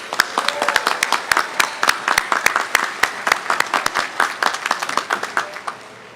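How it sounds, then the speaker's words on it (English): A law school commencement audience applauds faculty and staff, a dense, sustained round of clapping from a large crowd that carries evenly from start to finish and fades slightly at the end. "Please join me in giving the Emory Law faculty and staff a well-deserved round of applause."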